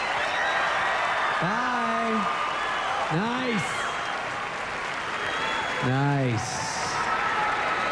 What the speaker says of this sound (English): Give them a round of applause, the Raiderettes.